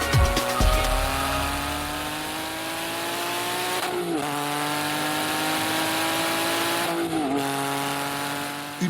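A motorcycle speeds along a German autobahn at about 230 km/h, its engine a loud, steady high-revving drone with two brief dips, like gear changes, partway through.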